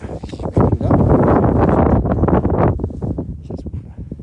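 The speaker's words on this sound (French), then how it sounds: "Voilà, c'est le vent qui souffle." Strong gusting wind buffets the microphone on a snowy mountain pasture at 1600 metres altitude, loud and roaring with surging and easing gusts and no voices.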